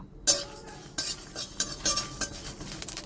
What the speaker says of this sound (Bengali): শুকনো লঙ্কা, তেজপাতা আর 5 রকমের মশলা আমি ভালো করে ভেজে নেব।